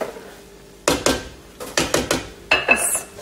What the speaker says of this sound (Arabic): بس نغطي الجدر وننطر الربيان يستوي